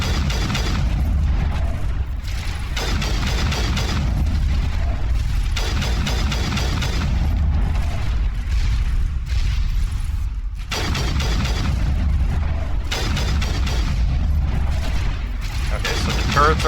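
Rocket turrets firing in a video game, sustained dense mechanical clatter and booming explosions, loud and continuous with repeated rhythmic bursts and faint voices under the din.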